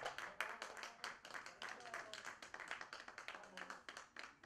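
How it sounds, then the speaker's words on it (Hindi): An audience at a music event at Delhi Public Library gives faint, scattered, uneven clapping, quiet and thin, with soft voices in the background. "तालियां बजा दो थोड़ी सी यार"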